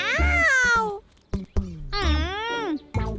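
A cartoon cat from the Tamil-dubbed Boonie Bears series gives drawn-out, sliding meows. Two long voiced cries are broken by short sharp sounds, and a clipped yowl comes at the end, all loud and close.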